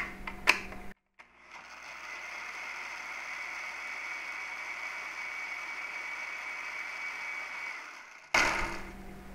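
A blender runs at its lowest speed for about seven seconds, whirring passion fruit pulp in a steady mid-pitched drone, with clattering handling noises just before it starts and right after it stops.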